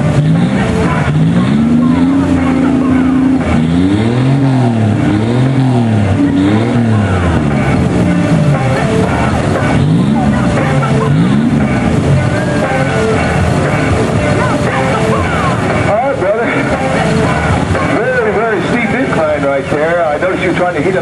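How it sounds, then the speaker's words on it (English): A rock crawler at a W.E.Rock competition in Dayton, 2011, revs hard with rising and falling engine pitch as its tires spin for grip on a steep incline, loud and continuous under a commentator's voice. "Trying to heat up the tires a little bit, trying to get some traction."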